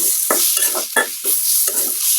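Spices and turmeric are stirred in a hot frying wok, with loud, close scraping strokes repeating in a steady rhythm over continuous sizzling.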